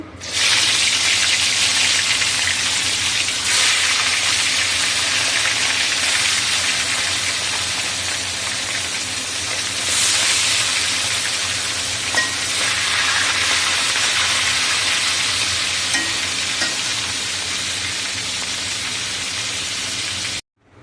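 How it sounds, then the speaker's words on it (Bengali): Hilsa fish fry in hot oil, a loud, steady, close sizzle that hisses continuously with little change, then cuts off abruptly at the end. "তেল গরম হয়ে গেছে এক এক করে আমি ইলিশ মাছগুলো দিয়ে দিচ্ছি"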